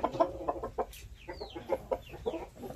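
A breeding hen of a Shamo gamefowl line clucks in a steady series of short, close calls, some rising into brief squawks, fairly quiet with no speech.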